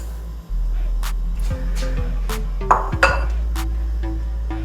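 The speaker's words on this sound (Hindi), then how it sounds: "चीनी को हम चम्मच की मदद से हिलाते रहेंगे ताकि चीनी आपकी नीचे लगे ना" A metal spoon scrapes and clinks against a pot while sugar is stirred into water, a few sharp taps and rings over a steady low hum from the stove, no voices.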